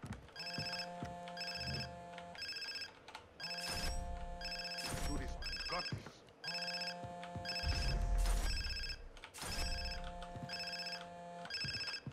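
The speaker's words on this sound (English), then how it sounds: "somebody's phone is going nuts in here" Phone ringing inside the Far Cry 3 video game: repeated electronic trilling rings in regular bursts with short pauses, moderately loud, with game sounds and occasional low thuds underneath.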